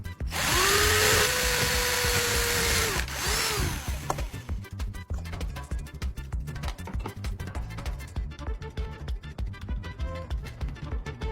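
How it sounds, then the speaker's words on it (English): A small power drill whines steadily up close, its pitch wavering, then gives way to a rapid, rattling grind as it bites through the metal base of a light bulb. "I carefully drill a small hole through the metal base"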